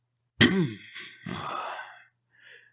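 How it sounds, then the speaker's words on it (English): A performed cough from an ailing king in a fantasy audiobook: one sharp, close burst followed by a rougher, drawn-out rasping cough and a faint trailing breath, heard alone without narration. "The king coughs."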